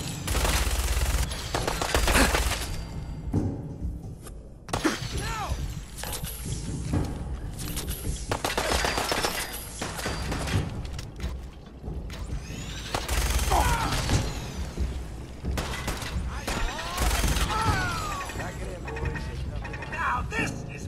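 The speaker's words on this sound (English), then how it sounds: "Need some cover fire over here!" Heavy gunfire in a Fallout 4 battle: dense automatic bursts and booming shots pile up, loud and close, over about twenty seconds while in-game voices call out over the shooting.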